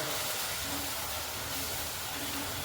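Ingredients sauté in a pan over a low gas flame, giving a steady, even hiss that stays unbroken from start to end.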